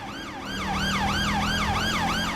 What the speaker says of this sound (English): I'm going to change the sirens at this point because it's a busy area.